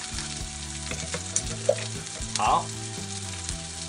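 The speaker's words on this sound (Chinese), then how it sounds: "今天我就是要煎两只" Garlic chicken thigh steaks pan-fry with a loud, continuous sizzle and spatter, a few brief knocks of a utensil against the pan, and a short spoken word at the start.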